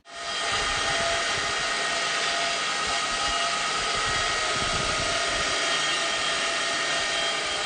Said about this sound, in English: I am going to use the belt sander to get the bulk of the paint off